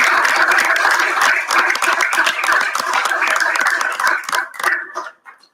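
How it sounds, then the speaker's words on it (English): Applause from the audience at a city council meeting in Two Rivers, a loud, dense burst of many hands clapping that holds steady and then thins out and stops near the end. "how about a round of applause for our Senior Center staff?"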